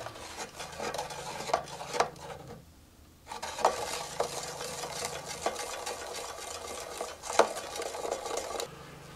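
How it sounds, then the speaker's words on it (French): A liquid mixture is stirred by hand for party preparations, giving soft scraping and swishing strokes in an irregular rhythm, quiet and close, with a brief pause near the start. "Et on mélange pendant au moins 10 minutes."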